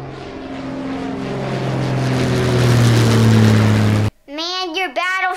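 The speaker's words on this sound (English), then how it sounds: "Our radar picked up enemy aircraft." Toy battleship play evoking enemy aircraft: a loud, steady droning engine-like roar with rising tones lasts about four seconds, then cuts off abruptly before a brief voice.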